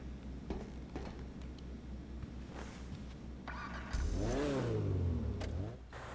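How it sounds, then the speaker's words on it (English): A Maxwell Vagrant off-road car in GTA Online, modeled after the Ariel Nomad, idles with a low steady engine drone, then revs hard partway through, its pitch climbing and falling in a loud, close burst before settling back. "This is the new Maxwell Vagrant"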